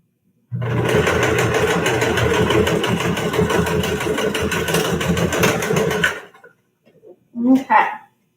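A sewing machine stitches through a cloth face mask in a loud, steady run lasting several seconds, then stops; brief voice sounds follow near the end.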